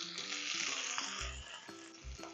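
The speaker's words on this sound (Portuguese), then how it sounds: "Aí eu vou deixar até ficar bem fritinho." Bacon frying in a pan, a faint continuous sizzle with small pops and crackles, close up and without talk.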